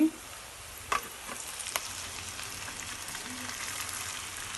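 Spices tempering in hot oil for an Andhra pulihora dish sizzle with a steady frying hiss, broken by a few sharp spoon-against-pan clinks as they are stirred.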